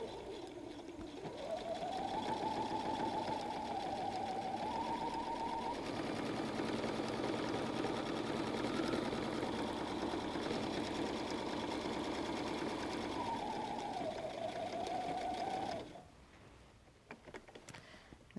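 A sewing machine stitches a messenger bag along a chalk line, running steadily at close range for about fifteen seconds with a faint backstitch-like shift in pitch midway, then stopping abruptly into quiet room noise.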